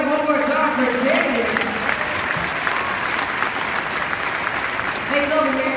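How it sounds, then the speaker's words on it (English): An audience at a Harlem Globetrotters event claps and cheers for a winner, a dense, sustained burst of applause with crowd noise, while a voice talks over it at the start and end. "Everybody, give it up one more time for Jamie."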